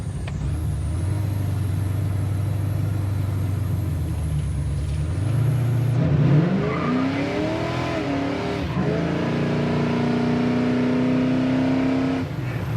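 1969 Camaro with a 350 V8 and aluminum heads, a low steady rumble swelling into hard acceleration with rising revs, a gear change, then pulling again, loud and close throughout.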